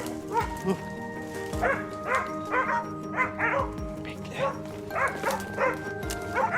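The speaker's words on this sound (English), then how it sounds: "the relentless barking of the hounds spurred us onward" Hunting hounds barking and yelping during a wild boar chase, repeated bursts of bays and yips from several dogs at moderate distance, overlapping in a busy, uneven rhythm.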